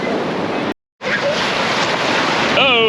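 Ocean waves break near the shore at Lookout Cay, Lighthouse Point, a loud close rush of surf and wind noise with a brief dropout early on.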